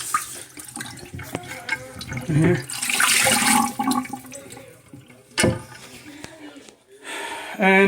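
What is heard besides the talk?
remaining water from a toilet tank being poured out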